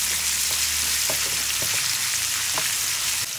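Chicken sizzling and frying in a pan with salt added, a steady dense hiss with a few light clicks and stirring taps, close and uninterrupted.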